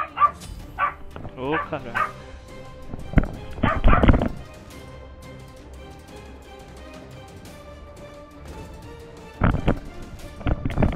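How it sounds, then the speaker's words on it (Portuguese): A pet dog barking in bursts at home, loud close barks early and again near the end, with a voice and video game sounds in between. "meu cachorro tava latindo aqui"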